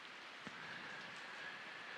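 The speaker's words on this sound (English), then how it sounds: "And the rain which you hear now is the constant watering of it" Rain falls steadily, a soft, fairly quiet hiss of drops hitting surfaces with no voices over it.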